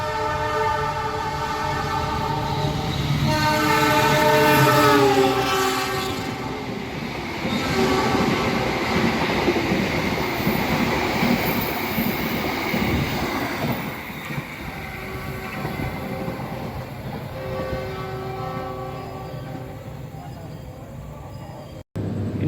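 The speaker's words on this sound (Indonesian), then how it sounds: "Ini dia dari arah barat berjalan kencang kereta api Argo Sindoro, tujuan akhir stasiun Semarang Tawang." The Argo Sindoro passenger train rushes past Pemalang station at speed with a long horn blast and loud rolling wheel noise that gradually fades; a voice is faintly audible.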